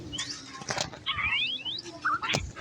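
Quick fluttering of bird wings mixed with short chirps and whistling tones, in brief bursts with synthetic-sounding game effects.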